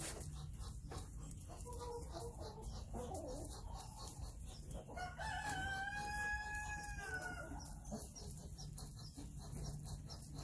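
Egg-laying backyard hens cluck and murmur close by, with one rising call standing out midway, over a steady outdoor background hum and no talking.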